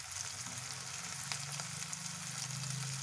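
Banana flower chops (mochar chop) fry in hot oil in a home kitchen, giving a continuous close sizzle and crackle with a low bubbling hum beneath.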